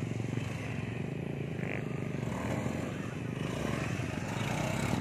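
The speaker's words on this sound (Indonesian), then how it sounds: "Ini motornya udah enak banget pokoknya ya." A Honda Beat automatic scooter with a 110/115 CVT setup revs hard during a wheelie attempt, its engine holding a steady, loud, raspy drone throughout with no break.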